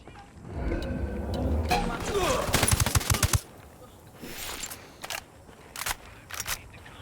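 Automatic weapon fire in Ghost Recon Wildlands erupts in a dense burst, followed by scattered single shots and short bursts further off, with a voice speaking over it.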